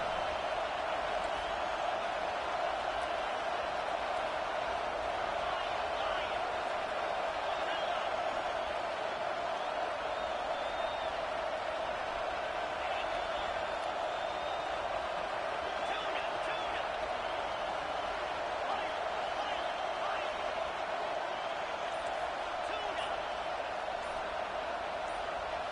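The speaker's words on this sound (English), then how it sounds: "This crowd knows when to bring it." Steady roar of a football stadium crowd at an OSU game, a continuous dense wash of cheering and murmur that holds a constant level throughout, with a commentator's voice faintly underneath.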